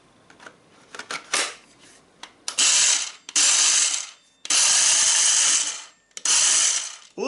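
A Teccpo TDMS22P 18-volt battery mini circular saw runs in several bursts, opening with clicks and short revs, then long loud whining spins with brief pauses between them.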